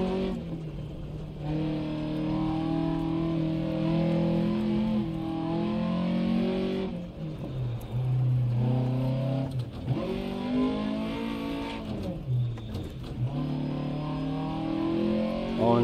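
A rally car engine in Dirt Rally 2.0 revs hard, its pitch climbing and dropping through gear shifts, with a few sudden dips and faint tire noise.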